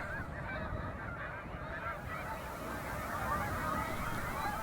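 A dense flock of snow geese and Canada geese honks continuously at a resting and feeding area on Lac-Saint-Pierre in Québec, many overlapping calls forming a constant moderate din.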